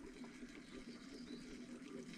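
Water runs steadily into a storage tank at a well-pumping setup, a faint, continuous gurgling rush with no voices over it.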